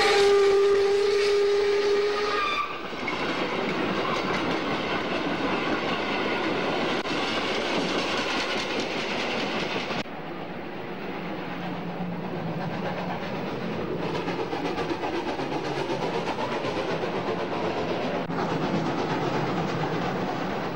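Steam locomotive 03 001 pulls into Greiz station past a waiting local freight train. A loud whistle blast opens, followed by a steady rumbling roll with clanking and clatter from the wheels and cars.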